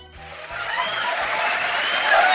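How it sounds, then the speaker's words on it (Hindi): Dense clapping from a standing crowd welcoming a teacher at a batch farewell event, swelling steadily louder over a couple of seconds and continuing without a break. "तालियां बजती रहनी चाहिए."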